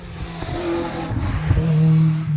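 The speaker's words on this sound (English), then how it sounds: "Well, we got a car coming out. Oh, it's a Chevette." A Vauxhall Chevette rally car pulls away on a stage, its engine note rising through the gears as it drives out, fairly close and loud, with no talk over it.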